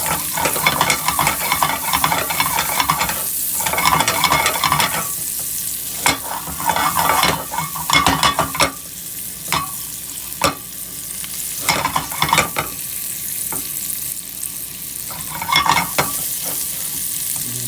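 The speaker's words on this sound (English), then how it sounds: "So you can see our asparagus are in. You just saute it lightly." Blanched asparagus is sautéed in a pan for a Spanish mackerel dish, with a steady sizzle broken by repeated bursts of close stirring and utensil scraping.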